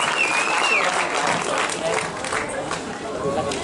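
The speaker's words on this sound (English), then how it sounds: "Give it a round of applause" Spectators at an athletics championship on the Gold Coast applauding near the finish of a women's 300m hurdles final, a broad steady clapping mixed with crowd chatter and an announcer's voice.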